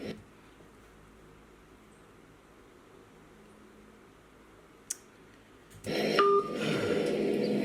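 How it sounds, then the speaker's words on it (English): A phone call cuts off: after a quiet stretch and a single click, a loud burst of tones and noise arrives, with a steady beeping telephone disconnect tone running to the end. "He just hung up the phone."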